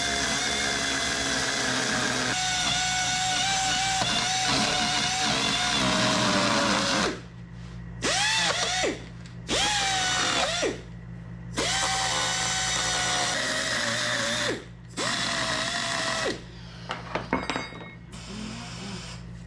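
A rotary tool with a coarse aluminum porting bit whines loudly at high speed, first in one long run, then in a series of short bursts with rising and falling pitch as it grinds the metal in a garage.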